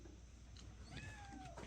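A pet cat meowing indoors, a short rising-and-falling meow with a second cry, faint and close against a quiet room hiss.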